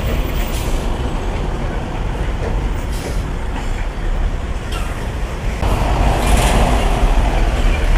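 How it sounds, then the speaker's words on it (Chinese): Heavy dump trucks hauling muck rumble past on a dusty roadside, a loud continuous engine drone and tyre roar that swells as another truck passes near the end. "这条路上大货车特别多呀，看看，全是拉渣土的一些大货车"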